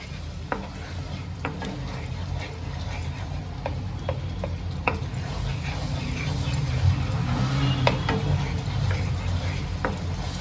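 Tomato puree fries in a pan for a dhaba-style paneer masala, a low bubbling sizzle running throughout with sharp ticks of a spoon scraping and stirring against the pan.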